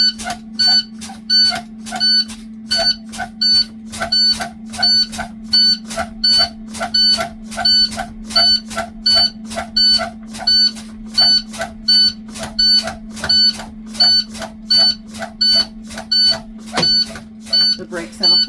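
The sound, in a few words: bus low air pressure warning alarm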